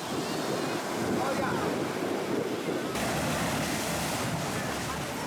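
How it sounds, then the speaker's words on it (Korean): Surf crashes steadily against the waterfront at Little Venice on Mykonos, Greece, with heavy wind buffeting the microphone; a dense, continuous roar of waves and gusts, loud and close, with no pauses. "파도와 바람이 한 몸이 되어 부딪히는 이곳"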